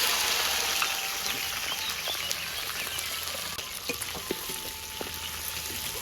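Ground spice paste of galangal, ginger, shallots and garlic for village-style spicy beef lodeh sizzles steadily in a pan, a dense continuous crackle with scattered small pops throughout, no talking.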